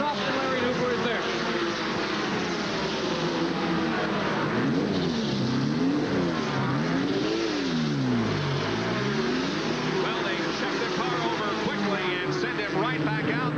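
A 1988 NASCAR race car pulls out of pit road at Dover, engine revving and whining up and down through the gears, steady and moderately near, with a commentator talking over it.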